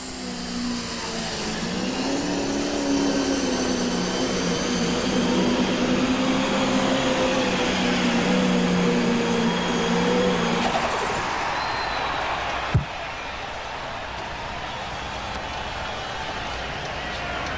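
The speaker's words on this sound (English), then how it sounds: "Last tractor in the class." A Massey Ferguson tractor roars loudly at a tractor pull, a sustained engine drone that holds for about ten seconds, then drops away. A single sharp bang follows over fading background noise.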